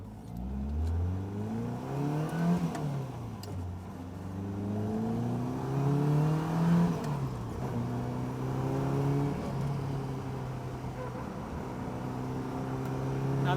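A Caterham sports car drives along an open road after a differential reinstall, its engine droning loudly and steadily with rising and falling revs as it accelerates and shifts, close and continuous throughout.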